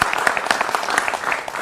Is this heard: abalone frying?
no